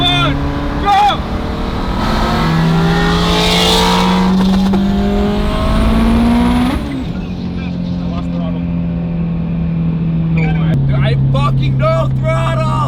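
A 1100hp Subaru STi at a full-throttle launch attempt: a loud engine drone with shifting pitch runs throughout, rising and then dropping abruptly partway, while voices talk and shout over it.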